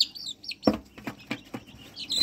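Grown native desi chickens clucking close by in a small backyard flock, a run of short, rhythmic clucks with brief high chirps before and after.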